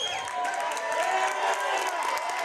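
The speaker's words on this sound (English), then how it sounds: "South Tama's got their home crowd and the home bench on both sides of the mat, making some noise here." Home crowd at a high school wrestling meet in a gym, cheering and yelling steadily from both sides of the mat, a dense sustained roar with scattered shouts and some claps throughout.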